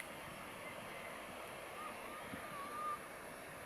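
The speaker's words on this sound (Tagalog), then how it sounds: "Napakalakas ng agos ng tubig." Strong current of the Angat River, fed by water released from Angat Dam, gives a steady broadband rush that stays loud and continuous, with a thin whistle or tone and faint voices briefly audible near the end.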